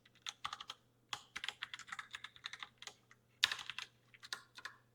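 Close computer keyboard typing as CSS code is entered, with quick irregular clusters of key clicks and brief pauses over a faint steady hum.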